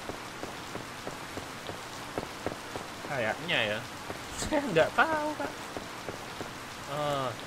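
Rain patters steadily and softly in the farming game Harvest Moon Light of Hope, an even background wash with scattered drop ticks. A person talks over it in the middle and near the end.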